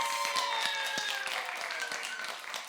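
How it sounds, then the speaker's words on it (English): Audience applause at a church vacation Bible school closing day, scattered claps heard fairly faintly amid a bright room with tonal background sounds. "Please give her a big applause."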